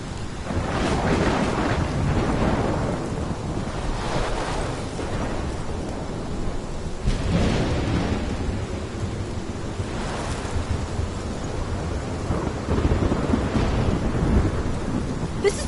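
A thunderstorm in the video game Life is Strange, with steady heavy rain throughout and several deep rolling thunder rumbles building and fading, loud and close with no talking.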